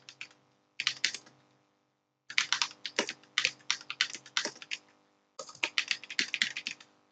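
Close, crisp clatter of computer keyboard typing in three quick bursts separated by short pauses, with no voices, while entering details on a zero tax return form.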